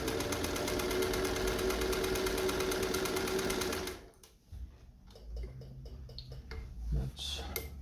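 A Singer 201 sewing machine runs at its longest stitch length, a loud, steady, fast mechanical whir that stops abruptly halfway through, followed by a voice and scattered small clicks and handling sounds.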